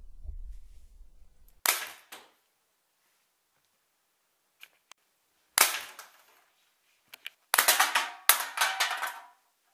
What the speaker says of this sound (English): a Nerf gun powered by hairspray